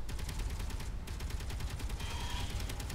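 Steady rapid fire from automated turrets shooting at spiders in Space Engineers, a continuous fast rattling stream of shots at moderate distance, fairly quiet and unbroken throughout.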